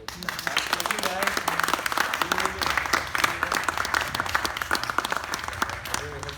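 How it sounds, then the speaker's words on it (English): An audience at an art workshop with a Pixar story artist gives a round of applause. Dense clapping runs the whole time while voices talk over it. "Give them a huge round of applause."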